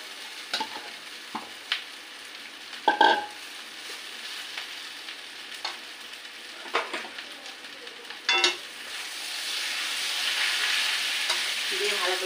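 Boiled, hand-mashed potatoes are stirred into onions frying in a pan, with scattered spatula scrapes and clinks over a soft sizzle that swells louder and steadier toward the end.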